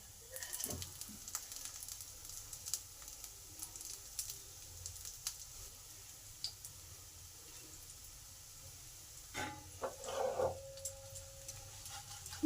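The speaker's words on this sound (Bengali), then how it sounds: "এই পনিরগুলোকে হালকা করে ভেজে নেব" Paneer pieces fry in hot oil in a pan, a faint, steady sizzle with occasional soft ticks and crackles, close by and without talk.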